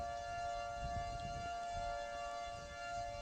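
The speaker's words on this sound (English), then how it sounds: "Tornado sirens are back up." Civil defense tornado sirens wailing through a storm in the April 2025 tornado outbreak, a faint, steady distant tone over low wind rumble, with no one speaking.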